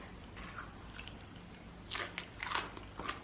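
Crunchy bites into a crispy Korean mung bean pancake dipped in sauce, a few crisp crackling crunches close up with soft chewing between them, no talking.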